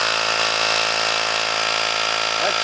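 Ryobi 18V ONE+ cordless high-pressure inflator pumping air into a tyre, a steady, close, continuous motorised drone with a constant buzzing hum and no gaps, running alone without any talk.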